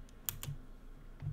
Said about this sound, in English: I'm gonna try not to hit the keyboard as much now.